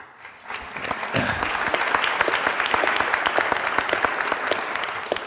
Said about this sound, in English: This is a wonderfully applauding crowd.